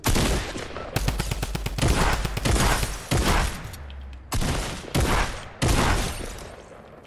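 Rapid automatic gunfire from Fortnite fired at a tree rips out in loud, close bursts separated by short pauses, each volley a dense string of sharp cracks.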